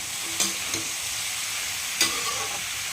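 Bottle gourd and prawns with salt and turmeric sizzle steadily in a pan, a constant frying hiss broken by a few light stirring clinks, with no one speaking.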